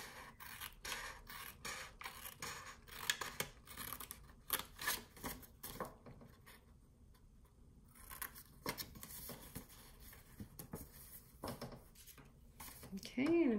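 Scissors cut two paper boxes off a flip-book card, giving a run of close, crisp snips and rustling paper scrapes, with quieter pauses between the cuts.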